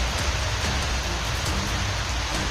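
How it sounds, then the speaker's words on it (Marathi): Heavy unseasonal downpour in the Chappalgaon area near Akkalkot, lashing down as a dense, loud, unbroken hiss of rain with close pattering on surfaces and no voices. "आणि त्यासोबतच कोसळणारा मुसळधार पाऊस"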